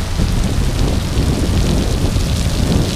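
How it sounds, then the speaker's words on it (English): Heavy rain pours down steadily in the Philippines, a loud, dense hiss of drops on surfaces that holds constant throughout, with no voices. "I can see it, the rain's coming."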